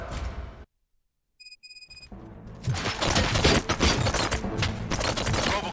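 Rapid bursts of automatic gunfire crackle in RoboCop: Rogue City, erupting loud and dense after a brief silence and a few electronic beeps, then continuing as sustained overlapping shots with no talk.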